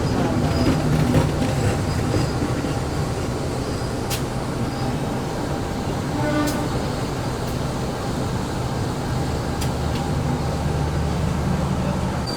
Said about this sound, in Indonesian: Nah, ini dia kereta api Kuto Jaya Selatan